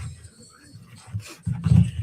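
Puppies on the Puppy Bowl television broadcast give brief soft panting and whimpery dog sounds, faint and close, ending in a louder breathy burst.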